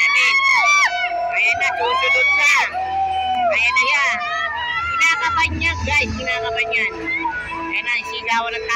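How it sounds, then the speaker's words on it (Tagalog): A noisy crowd shouts and cheers continuously, with loud voices and whistles over a dense babble of people. "Naririnig yung sigawan."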